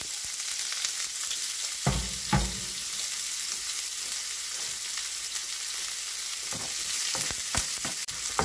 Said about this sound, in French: dans l'huile, je mets tout d'abord une petite pincée de coriandre, de cumin en grains et je verse mes oignons